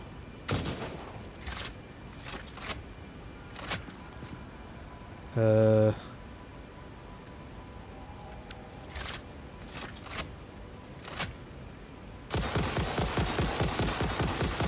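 A full-auto rifle with a slow fire rate in a video game: spaced single cracks spread through the clip, plus a dense burst of fire at the end. A brief tonal beep sounds midway.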